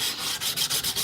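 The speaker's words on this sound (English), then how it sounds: "I basically just take my sanding sticks that I made." A homemade sanding stick rubs along a cosplay short sword in quick, steady back-and-forth strokes, a close, dry scratchy hiss repeating about five times with no voices.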